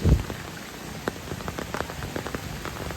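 Steady rain patters on a surface, with scattered individual drops tapping distinctly over a soft, continuous wash.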